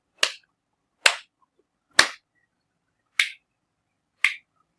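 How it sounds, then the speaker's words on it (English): Five crisp finger snaps ring out close by at a steady, unhurried pace, each one sharp and isolated in silence. "Snapping. Maybe my fingers are striking my palm."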